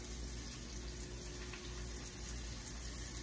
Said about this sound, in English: I'm going to wash my hands over here